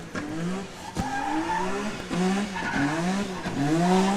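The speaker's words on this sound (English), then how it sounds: "Car sounds amazing, though." A drift car in competition qualifying, its engine revving up and down repeatedly with tires squealing and skidding, loud and close without talk.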